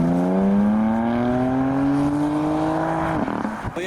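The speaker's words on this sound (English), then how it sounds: "There's the downshift." A Lamborghini LP560 with a spoiler pulls away from a modified car show in heavy rain, its engine note climbing steadily in pitch, then a sharp drop and crackle at the downshift near the end, loud and close.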